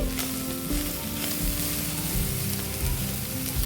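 Gurugaaku leaves fry in oil for a village-style dish, making a loud, dense sizzle that runs unbroken from start to finish, close by and with no voices.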